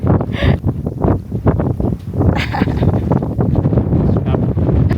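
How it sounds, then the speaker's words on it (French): Strong March wind buffets the microphone on a sandy seaside beach, a loud continuous roar with gusting bursts throughout. "mais le vent qu'il y a là"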